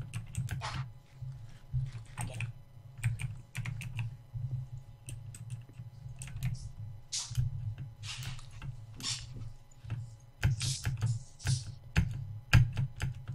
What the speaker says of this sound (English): I love pressing my keyboard like that for some reason.